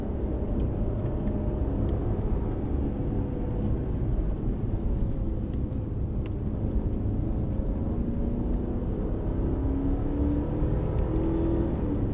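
A 2007 Mercedes-Benz CL550 V8 coupe under throttle, engine note rising and dropping through a few quick gear shifts, heard steadily from inside the cabin with no talk.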